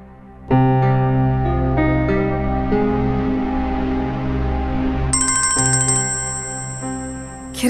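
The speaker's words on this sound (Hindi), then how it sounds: "किरण का फोन है।" A phone ringtone plays a bright repeating melody, loud and close, with a higher chiming tone joining near the end.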